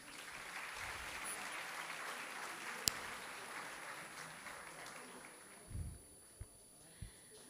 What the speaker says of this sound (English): I believe that they too deserve another round of applause.